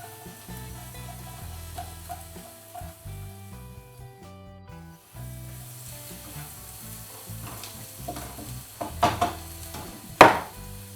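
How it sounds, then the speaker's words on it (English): Sliced onions frying in a pan for a homemade steak and onion pie, a steady soft sizzle with musical background underneath and a couple of louder clatters and stirring scrapes near the end. "you want to fry these until they're softening. Until they go soft and just start to colour"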